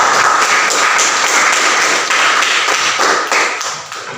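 A classroom of students claps together for a classmate's answer, a dense steady patter of hand claps that stays loud and close, then trails off near the end.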